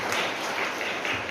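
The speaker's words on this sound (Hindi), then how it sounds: "जोरदार प्रभु के लिए ताली।" Applause from a congregation at a spiritual awareness meeting, dense continuous clapping filling the whole moment.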